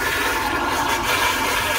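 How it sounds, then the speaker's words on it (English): A TrailLite macerating black water toilet flushes with a steady, loud rush of water and pump whir that holds evenly for about two seconds, close by, with no talk. "So to flush, you push that button with the arrow down."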